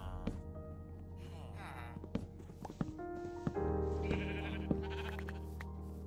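Sheep bleating in the Minecraft video game, several short bleats at moderate distance mixed with game thumps and footsteps against a steady background hum.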